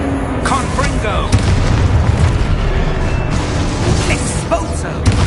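A Confringo blasting spell exploding in Hogwarts Legacy, a loud, sustained roaring blast with crackling bursts and whooshes layered in dense, continuous combat noise.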